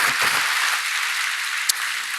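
A church congregation applauds in a broad, continuous wash of clapping that holds steady the whole time, with a single sharper clap standing out near the end.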